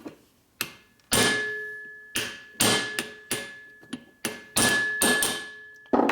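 A part is hammered into place on a 2004 Harley-Davidson FLHT Twin Cam touring motorcycle, with about ten sharp, close metallic blows struck at an uneven pace, each ringing briefly before the next.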